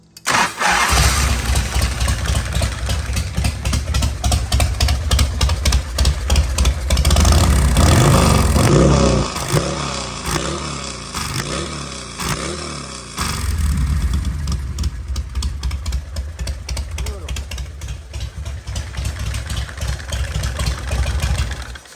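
An old engine, just fitted with a new gas tank and lines, cranks and catches, then runs loud and close with a rough, pulsing idle and a few uneven surges.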